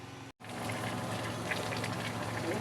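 Ingredients for afang soup steaming in a covered pot on a gas stove, a steady soft hiss and bubbling rush that follows a brief cut and then continues evenly.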